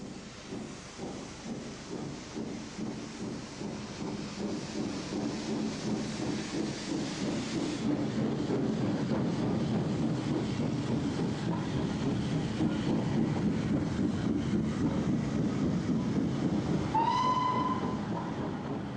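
Midland Railway Class 2F tender steam locomotive departing Birmingham New Street with a train, a steady rumbling chuff and rolling rattle building in loudness, with a brief whistle near the end.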